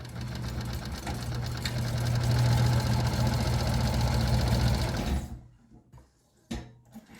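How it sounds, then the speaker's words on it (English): A sewing machine runs steadily while stitching a messenger bag seam, a close, continuous mechanical hum and rapid knocking that lasts about five seconds, then stops abruptly, leaving a quiet room with a brief clunk afterward. "And sew straight down."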